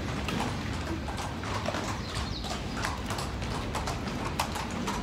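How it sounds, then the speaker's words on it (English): Horse hooves clip-clop steadily on a busy street in Marrakech, Morocco, a rapid rhythmic clatter close by under a dense bed of city noise, with no speech. "It's a horse"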